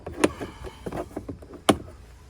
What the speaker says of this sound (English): You've got your central locking here. You can hear that work, that's fine.